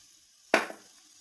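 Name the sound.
beaten egg poured into a hot pan, sizzling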